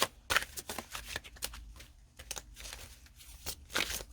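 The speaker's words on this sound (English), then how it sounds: "This is my ruddy shuffling." A tarot card deck is shuffled by hand in quick irregular bursts of riffling and slapping cards, close and crisp, with short pauses between passes and no speech.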